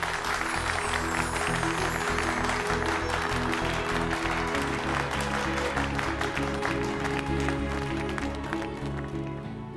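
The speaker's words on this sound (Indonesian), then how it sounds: "Beri mereka tepuk tangan." A crowd at a henna ceremony claps in dense, sustained applause, loud and continuous over a bed of festive music, fading slightly at the end.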